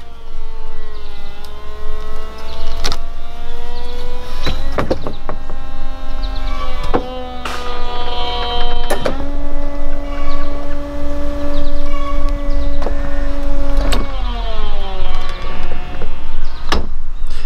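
Electric motors on a BMW E46 convertible whine steadily as the top and windows move. The drone rises and steps in pitch several times, broken by sharp clicks and thumps from the mechanism, close up with no talking.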